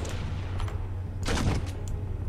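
Modded grenade launcher firing in Space Engineers: a few short launch pops followed by a louder, broader burst mid-clip, set against a steady low engine-like hum.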